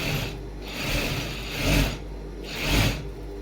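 Sewing machine stitching a folded quarter-inch piping along the side of a shirt, running in three short bursts with brief pauses, a close mechanical whirr and rattle.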